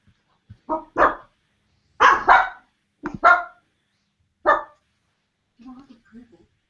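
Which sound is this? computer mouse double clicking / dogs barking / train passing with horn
dogs barking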